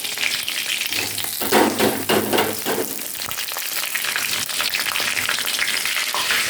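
Whole spices including cloves, bay leaf and green cardamom sizzling in hot oil and ghee, a loud, close crackling fry with bursts of spattering and stirring scrapes.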